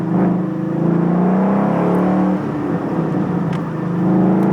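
A 2014 Mustang GT with a manual stick shift drives along, its engine note a steady, fairly loud low hum that shifts pitch as it pulls, heard from inside with no talking.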